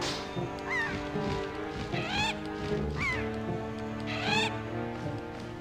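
Several bird-like honking and chirping calls rise and fall over busy background music as birds follow the player in The Legend of Zelda: Wind Waker HD, recurring in short bursts about once a second.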